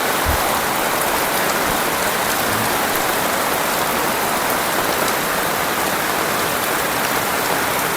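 Steady heavy rain pours down continuously, a dense even hiss of drops on surfaces with no pauses, close and loud throughout, in a flood-prone village area of Lambheu, Aceh.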